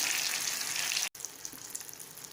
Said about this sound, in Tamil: எண்ணெய் ஃபிஷ் வந்து பொறிஞ்ச உடனே சுற்றி வந்து கொதிக்கிறது